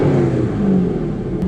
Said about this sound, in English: Just imagine the noise of this exhaust system out in the mountains.